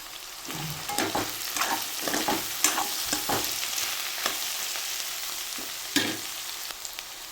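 Small bommidi fish frying with onion in a pan, a steady close sizzle broken by scraping stirs and clinks.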